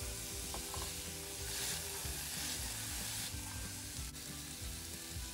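Diced carrots and potatoes sizzle and fry steadily in a pan while being stirred, a continuous crackling hiss with soft scraping strokes and no voices.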